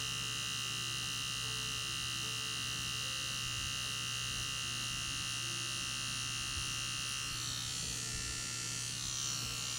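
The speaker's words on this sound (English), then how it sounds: "we are able to accomplish dot work using these nano tattoo machines from Easy Tattoo Supply" A nano tattoo machine from Easy Tattoo Supply buzzes steadily while shading, a close, continuous electric whine with a constant tone and no talking.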